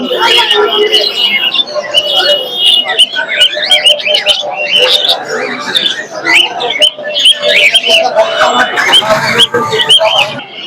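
A dense chorus of many birds, including cockatoos, chirping, squawking and cooing all at once at the Mirpur 1 bird market, loud and continuous, with people talking in the background.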